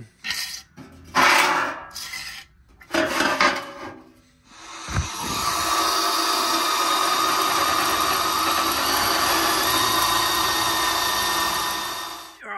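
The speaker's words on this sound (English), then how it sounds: "So I just drill those out." Spot welds on a rusty Toyota Hilux floor pan being drilled out: a few clattering knocks and handling bumps, then a loud continuous high-pitched drill whine grinding steadily through the metal for about seven seconds, close by.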